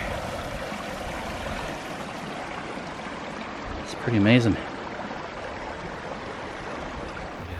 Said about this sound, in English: Water channeling through there.